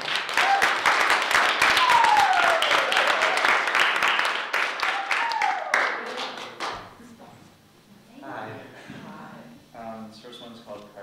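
Audience applause for a poet at a National Poetry Month evening of readings, a full burst of clapping that fills the room for several seconds, then fades as a voice begins speaking.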